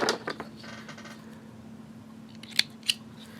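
Scissors snip thread on a handmade sequin Christmas tree ornament: a couple of faint metallic clicks early, then two crisp, close snips near the end over a quiet indoor background with a low hum.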